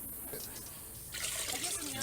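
Liquid poured into a 3-gallon kettle for an off-grid cider press, a near steady trickle that thickens into a fuller splashing pour partway through.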